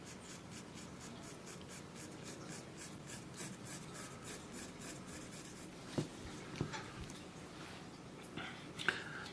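A pencil sketching and shading a pear on paper, with steady rhythmic scratchy strokes repeating close up and quiet, a few sharper taps near the end.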